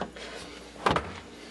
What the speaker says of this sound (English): ASMR putting stuff inside the drawer.